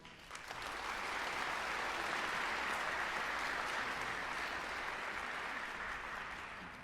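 A concert hall audience at a Korea–Japan 60th anniversary celebration concert gives a big round of applause for an ambassador, a broad continuous wash of clapping that swells in, holds steady and slowly fades.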